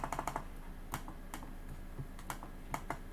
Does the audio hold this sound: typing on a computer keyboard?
yes